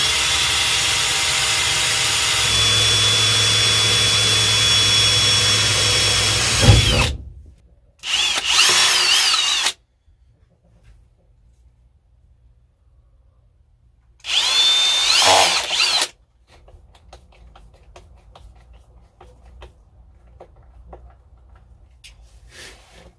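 Power drill boring screw holes during interior installation on a 1976 Chevy El Camino, a loud close whine running for several seconds, then two shorter bursts separated by silence.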